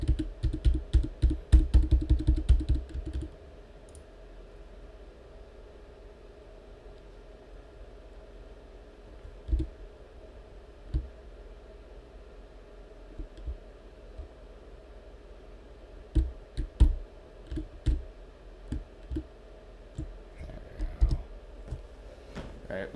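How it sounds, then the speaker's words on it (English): Computer keyboard keys clicking in short bursts, a quick flurry of typing at the start and then scattered keystrokes and small clusters of taps over a quiet background hum. "I have to use keyboard for this"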